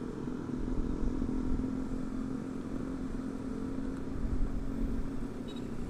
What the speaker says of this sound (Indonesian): Jalan basah, becek, nyiprat pula motor